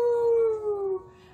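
A person's voice imitating a wolf howl for a small child, one drawn-out falling wail, fairly close and moderately loud, that fades into quiet.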